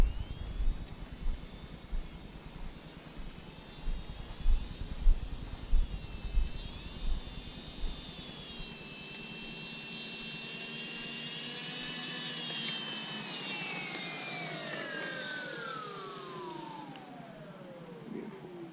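An FMS Sbach 342 RC model airplane, an electric whine with a rhythmic pulsing early on, then a long smooth rising and falling tone as the motor changes pitch, moderately close with no talk.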